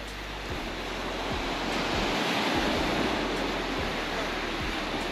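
Sea waves washing onto the shore at Bangui, Ilocos, a loud continuous roar of surf mixed with heavy wind buffeting the microphone, no voices.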